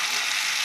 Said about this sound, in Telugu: ఇలా వేసుకున్నాక మొత్తంగా బాగా కలుపుకోవాలి.